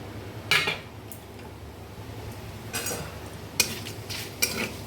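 Whole spices go into a hot pan of fried vegetables, with a low sizzle under several metallic clinks and scrapes of a spoon against the pan.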